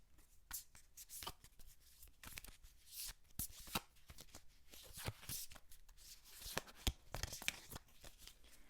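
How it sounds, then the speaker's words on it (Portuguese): A deck of playing cards riffled and shuffled in quick bursts of crisp flapping snaps, close and fairly quiet, with no voices. "O som desse baralho é gostoso."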